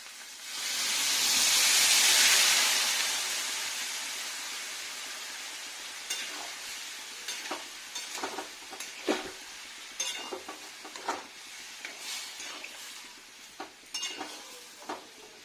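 A mug of water poured into a hot pan of frying soybean vegetable curry sends up a loud, close hiss and sizzle that swells and fades, followed by irregular clinks and scrapes of stirring.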